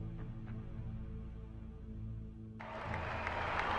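Crowd of about 2,400 faithful applauding and welcoming a leader who waves to them, the clapping swelling suddenly near the end over a low, steady background rumble.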